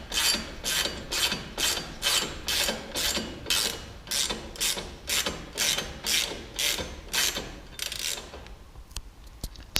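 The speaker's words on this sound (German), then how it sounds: "Und erst wenn alle Schrauben richtig sitzen, werden diese festgezogen." A ratchet tightening the screws of a crash bar on a BMW R1300GS motorcycle: a steady run of about fifteen close, loud clicking strokes in even rhythm, then a few scattered clicks as it stops.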